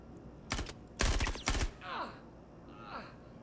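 SMG gunfire in a VR shooter game: several sharp rapid bursts close up in the first second and a half, followed by two softer swooshing whines.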